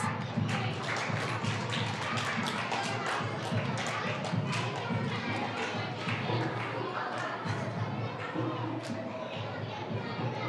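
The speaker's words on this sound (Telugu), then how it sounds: "క్లాప్స్" A crowd of children and adults at a vacation Bible school game claps in quick, uneven bursts for about ten seconds, loud and close, with cheering and voices mixed in.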